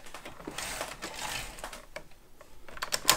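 A knitting machine carriage sliding across a row of garter stitch, giving a quiet, quick clattering of needles and latches that rises toward a sharper click at the end of the pass.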